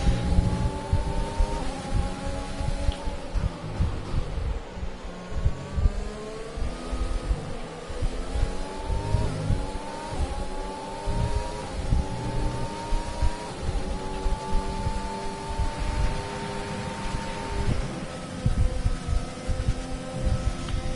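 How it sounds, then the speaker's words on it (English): Formula 1 car with a Mercedes engine racing in the F1 2020 game, a steady high engine drone with rising gear-shift sweeps, loud and continuous, no talking. "thank God there's a Mercedes engine in the back of our car"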